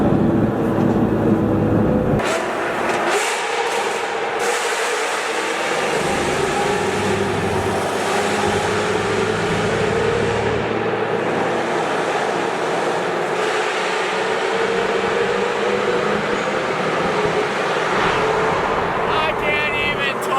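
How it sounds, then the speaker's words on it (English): Loud V8 cars rumble and roar continuously around a Honda S2000, a dense, steady engine din filling the space with brief dips, close and dominant throughout. "Poor S2000 doesn't know what freaking loud cars are surrounding it. These freaking V8s,"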